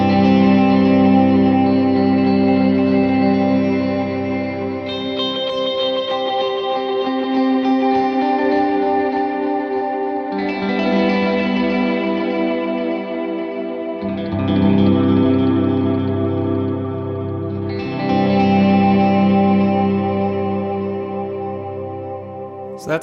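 Electric guitar through stereo ping-pong and darker modulated delay pedals with the repeats cranked, making a big washy, echoing wash of sustained chords that swells in several waves, loud and continuous with no talking.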